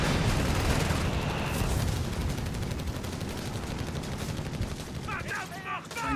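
Game gunfire from Company of Heroes 3, with Sturmgewehr assault rifles among dense battlefield shooting: continuous loud bursts and rattling volleys across the whole stretch, with a commentator talking over the action.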